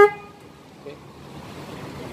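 A Honda Scoopy motorcycle alarm gives a short, sharp beep right at the start as it is disarmed, followed by quiet background hum and faint traffic noise.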